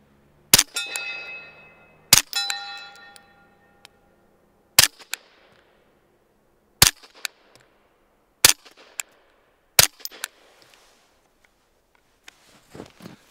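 A suppressed Sig P320 / M17 pistol fires about six separate shots spaced a second or two apart, each a sharp muffled crack followed by a metallic ring and brief clatter, with no talking.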